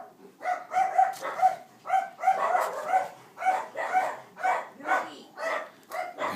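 Several dogs bark repeatedly in a steady rhythm of short, evenly spaced yaps, moderately loud and fairly close, continuing for several seconds.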